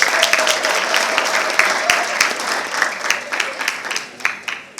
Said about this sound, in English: So clap hands for yourselves